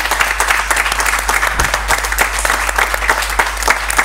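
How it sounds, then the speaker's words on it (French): A television talk-show studio audience applauds steadily, a close, even wash of clapping with a low electrical hum underneath. "On s'applaudit tous très fort"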